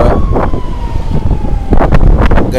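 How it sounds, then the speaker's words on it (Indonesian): An ambulance siren from a convoy of three ambulances arriving near the north gate of a football stadium on a match day, wailing steadily beneath busy road traffic and crowd noise. "Ada iringan-iringan ambulan nih, sahabat."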